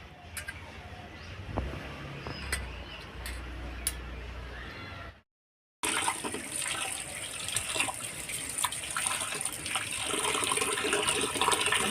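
Small morola fish are rubbed and rinsed in water, with running and splashing water and light clinks, a short silent break midway, then fuller sloshing that builds toward the end.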